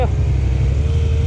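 A motorcycle engine drones loud and close in a steady, rough mid-low rumble, held throughout a short stretch with no clear rise in pitch.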